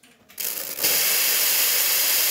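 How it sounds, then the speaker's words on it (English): A Quickmill Silvano espresso machine's steam wand opens with a short hiss, then bursts into a loud, continuous, forceful roar of steam. "Test the steam first."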